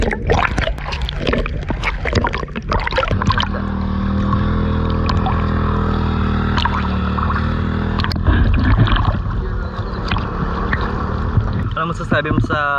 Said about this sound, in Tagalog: Ang lakas ng lakas ng alon.